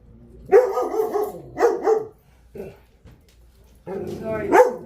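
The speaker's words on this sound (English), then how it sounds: "My shepherd gets in her barking little stages every once in a while and she wants petted." A pet shepherd dog barks in several close, loud bursts with short yips and whimpery tails, pausing between groups of barks indoors.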